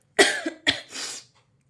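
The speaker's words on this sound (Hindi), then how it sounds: "खांसी बहुत आ रही है मुझे" Three quick, harsh coughs in a row, close and loud, with a short pause after the first two.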